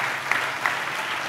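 Congregation at a Christmas church service claps together in a steady wash of applause, fairly close and continuous, with a couple of sharper accents standing out.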